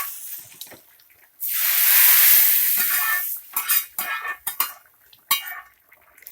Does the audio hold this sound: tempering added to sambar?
yes